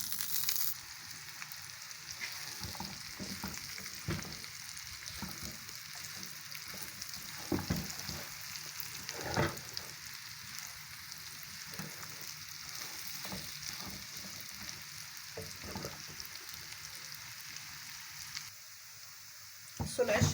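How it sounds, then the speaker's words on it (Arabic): Flatbread frying in native ghee for fatteh, a steady crackling sizzle with occasional stirring scrapes that runs nearly continuously and drops off briefly near the end. "هنا بقى هحط حته سمنه بلدي عشان احمر العيش عشان عايزينه فته"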